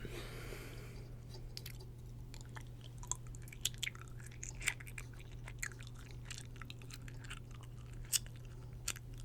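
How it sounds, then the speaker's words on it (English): Gum chewed close to the microphone during a dentist roleplay, soft wet smacks and small clicks scattered irregularly over a low steady hum. "I'm sorry if I'm chewing gum."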